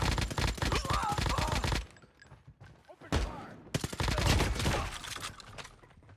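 Rapid bursts of automatic gunfire from the COD Mobile DMZ extraction mode, loud and dense in two stretches broken by a short quieter gap, with a player's voice faintly in the mix.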